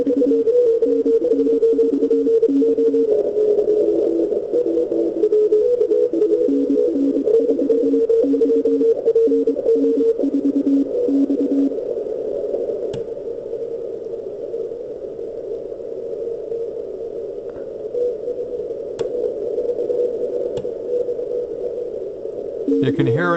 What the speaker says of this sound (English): You can hear a difference in the noise when he's transmitting, when I'm listening with the transmit antenna tuned versus detuned.